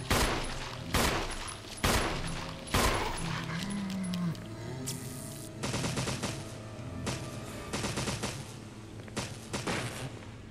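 In Resident Evil HD Remake, zombies in a hallway are shot with repeated loud gunshots, sharp and close, firing in irregular bursts over game noise.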